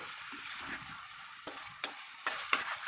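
Tomato pickle frying in a pan gives a soft, steady sizzle, broken by a few light scraping stirs and taps of a spoon, quiet and close.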